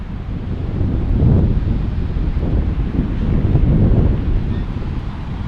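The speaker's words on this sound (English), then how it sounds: "Starting to get a little windy." Heavy wind buffeting an outdoor microphone at an airport beside a seaport, a steady low rumbling roar that swells and fades in gusts for several seconds, with no voices.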